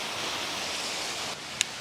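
A waterfall pours in a steady broadband rush, close and even, easing slightly near the end with a brief click.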